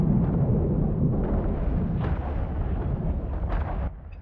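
Rumbling explosions from a friendly bombing run in a space strategy game, a dense continuous barrage of booms with a few sharper bursts, loud and sustained before cutting off abruptly near the end.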